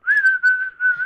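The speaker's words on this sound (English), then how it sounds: "I whistle all the time inside." A person whistles indoors, one steady, clear mid-pitched tone held with slight wavers over about a second, close and alone.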